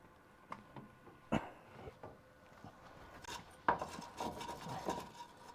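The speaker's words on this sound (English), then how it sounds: "Let's clean it off with the brush" A brush scrubs rust and weld beads off steel on a Dodge crew cab truck in a shop, making faint, irregular scraping strokes and rasping bursts with a few sharper knocks between quieter pauses.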